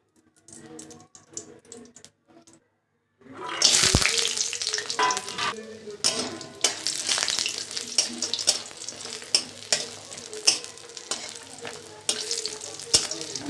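Bori lentil dumplings fry in oil in a wok, bursting into loud, crackling sizzle after a quiet opening, with irregular sharp spatters and scraping stirs continuing near and strong.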